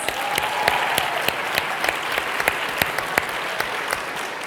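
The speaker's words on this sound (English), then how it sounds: "Let's give her another round of applause." A crowd applauds steadily, a dense patter of clapping with a few sharper individual claps standing out, sustained for several seconds.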